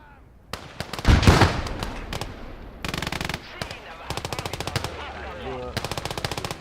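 Sniper and machine-gun fire from a World War II tank video game, with a loud crack and boom early on. Several fast bursts of rattling automatic fire follow, each sharp and close.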